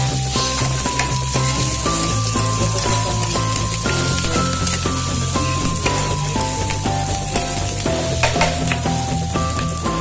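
Cooking oil sizzles loud and close while frying spaghetti ingredients, a steady crackling hiss with scattered pops and a stirring clatter running underneath throughout.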